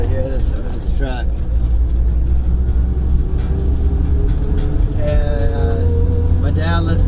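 A 1972 Toyota Land Cruiser FJ55 truck engine rumbles with a steady, deep, close drone throughout, while someone talks over it.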